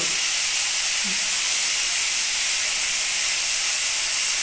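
A spice mixture stirred with water is poured into a hot pan for an eggplant and poppy seed dish, giving a loud, steady steam hiss that runs unbroken for the whole stretch with no voices.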